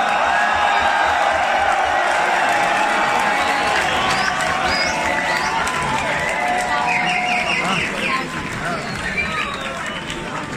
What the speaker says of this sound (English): Show him some love